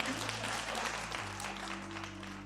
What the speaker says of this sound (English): can we please clap hands for